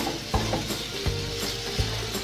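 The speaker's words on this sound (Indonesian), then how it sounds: "Masukkan cabai merah. Dan masukkan tomat. Tumis sampai layu." Shallots, red chili and tomato stir-fried in a pan, a steady sizzle with three sharp spatula scrapes and knocks against the pan at regular intervals.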